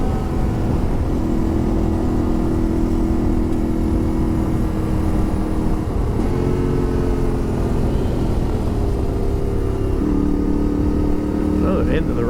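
Steady droning engine of a 2025 Yamaha Tenere 700 motorcycle on the move, loud and continuous with wind rumble, the pitch holding then shifting up as gears change, no talking.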